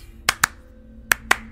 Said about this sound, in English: Slow claps.